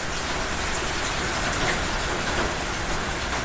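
Steady rain falls outdoors, a dense, even hiss of drops pattering on surfaces throughout, close and continuous with no voices.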